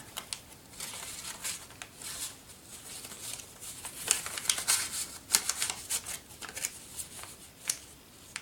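Paper journal pages and tags being flipped open on a faded floral journal, with close, crisp rustles and quick papery flutters repeating in an uneven rhythm that grows busier and louder toward the end; no voices.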